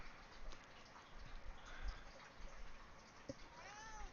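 A pet cat meowing indoors, a couple of soft brief mews near the end over a faint, noisy room background, no talk.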